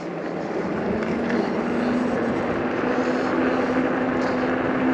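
A pedal-started bicycle motor runs with a steady, loud droning buzz, close and continuous with no talk over it.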